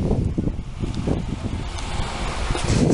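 Wind gusts across a hillside in Spain, buffeting the microphone with a loud, uneven rumble and rustle that swells and fades over a few seconds, with no talk.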